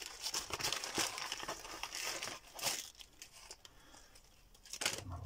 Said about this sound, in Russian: Вот в таком черненьком пакетике. Давайте откроем, поглядим,